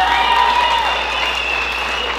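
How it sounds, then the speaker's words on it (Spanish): Loud, dense applause fills the hall at a quinceañera celebration, holding steady throughout, with a voice faintly heard over the clapping. "Que se oiga más fuerte el aplauso"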